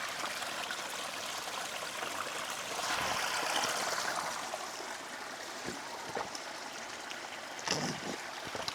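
Spring water at Arba Minch's forty springs flows and trickles steadily in a continuous, fairly faint outdoor rush, with a few small splashes and knocks over it.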